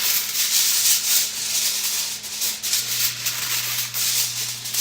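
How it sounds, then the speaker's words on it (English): Aluminum foil pulled from the roll in a kitchen while making lasagna: a continuous crinkly, rustling tear of thin metal sheet, loud and close, lasting several seconds without talk. "I'm going to get out my aluminum foil."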